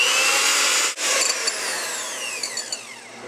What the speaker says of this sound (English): now we're going to whip the egg whites until it's like a fluffy-like consistency